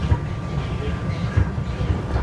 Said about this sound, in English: we're on the choo-choo train.